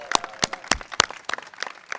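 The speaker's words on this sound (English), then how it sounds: "Let's give them a big round of applause again" A small crowd at a Brooklyn Greenest Block award celebration gives loose applause: a scattering of distinct, uneven hand claps rather than a dense roar, with faint voices underneath.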